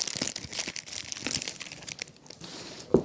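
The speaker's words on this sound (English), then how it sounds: "Want me to unwrap it for y'all?" A wrapper crinkles and crackles as it is unwrapped up close, with irregular bursts of rustling and a sharper snap at the end.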